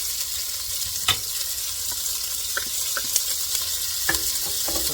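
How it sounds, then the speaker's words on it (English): Onions sizzling steadily in 1 to 2 tablespoons of oil in a Dutch oven, a continuous close frying hiss with a few soft stirring clicks and knocks scattered through, no talking. "we want to go ahead and put our onions in"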